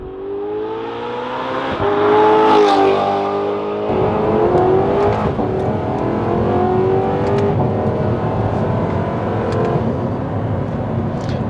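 An Audi R8 with S-Tronic gearbox drives along, its engine droning steadily and rising through revs with gear changes, loud and close from inside the car throughout.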